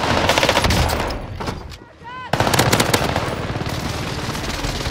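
Bursts of automatic gunfire in Call of Duty on Rebirth Island, loud and rapid, broken by a short quieter gap with a rising electronic tone before the firing resumes at full intensity.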